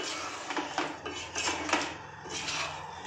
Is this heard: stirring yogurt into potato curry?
yes